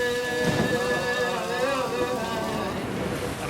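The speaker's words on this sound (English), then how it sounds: "Wow, that's quite a rain." Heavy rain pours down in Antananarivo, Madagascar's capital, a dense continuous hiss and rush of water with a steady drumming texture, close and loud, with no talking.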